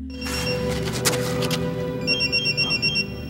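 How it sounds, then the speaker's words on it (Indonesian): A telephone on an Indo-American ship rings in a science-fiction alien film set in Antarctica, its rapid electronic trill pulsing over a dense bed of film music and ambience. "Tak lama berselang terdengar dering telepon yang ternyata berasal dari kapal Indo-Amerika"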